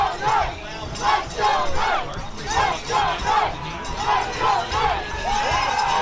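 A home crowd roars and cheers at a high school football regional championship game, loud rolling waves of shouting voices rising and falling repeatedly across the stands.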